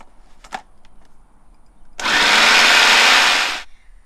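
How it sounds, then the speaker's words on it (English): A food processor runs for about a second and a half, blending satay sauce ingredients with roughly two cups of water: a loud, steady whirring roar that starts abruptly and cuts off, after a brief clatter. "after we stuff the food processor, we add about 2 cups of water in here so that everything can blend smoothly."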